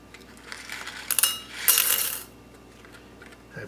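A box of paper clips set down onto a MyWeigh digital counting scale gives a loud metallic rattle and clatter in two short bursts, close and alone with no talking.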